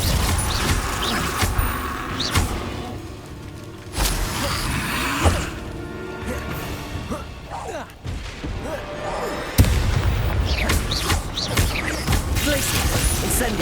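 A Confringo fire-blast spell in Hogwarts Legacy: a loud, sudden blast with crackling impact, among repeated slams, thuds and crashing bursts of spell combat, with a voice speaking briefly.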